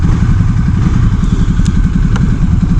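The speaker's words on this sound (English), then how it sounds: "It's got a nice brat brat brat sound to it, a tick over" Husqvarna Svartpilen 401 motorcycle with its stock factory exhaust idling close by, a loud, steady, rapid brat-brat thumping pulse with light mechanical clatter on top.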